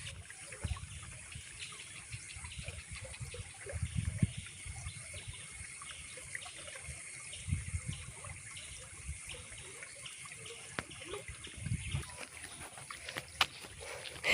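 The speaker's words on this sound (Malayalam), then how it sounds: "നിങ്ങൾക്ക് കേൾക്കാവോ വെള്ളം ഒഴുകുന്ന സൗണ്ട് കേൾക്കാവോ?" Water flowing outdoors at a wetland spot visited by migratory birds, a faint continuous trickling murmur with occasional soft splashes, heard alone at a distance.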